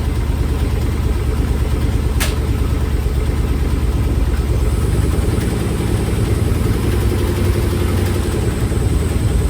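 LS engine fitted with a carburetor, factory PCM and an Ebay harness, idling loudly and steadily up close with an even low rumble and no throttle changes.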